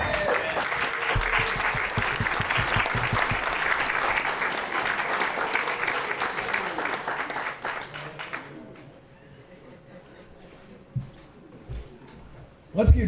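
An audience bursts into sustained, dense applause that fades out after about eight seconds, leaving a quiet room with a few faint sounds.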